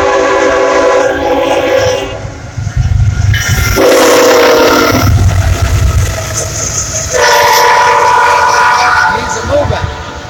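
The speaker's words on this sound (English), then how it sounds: "I think the train's coming" A loud CSX double-stack freight train rumbles close by in New York City, its horn blaring in several long blasts over the heavy rolling clatter of the cars.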